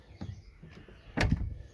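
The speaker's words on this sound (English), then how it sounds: "Yeah, so the door opens" A Ford Focus ST door, checked after a wing replacement, gives faint handling clicks and then one firm, loud thud as it shuts, with no one speaking.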